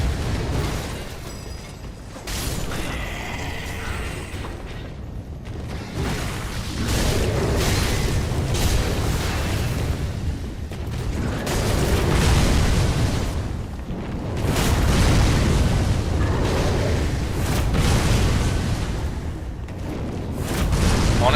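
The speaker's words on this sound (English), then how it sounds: "keep shooting them with the cannon while they're fighting the summon" Cannon shots and explosions from Dark Souls 3 with the Cinders mod, heavy booms and bursts rolling on and off in a loud, continuous battle din with no talk over it.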